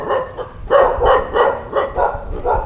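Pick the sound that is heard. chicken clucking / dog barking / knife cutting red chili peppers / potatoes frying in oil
dog barking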